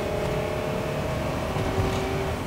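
A 2006 R Vision Trail Lite 252 Class B+ RV with a 6.8-liter V10, floored up a slight hill at about 35 mph, gives a steady, loud engine drone from inside the cab, holding the same strain throughout.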